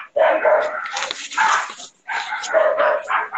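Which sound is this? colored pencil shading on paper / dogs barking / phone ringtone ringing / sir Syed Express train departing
dogs barking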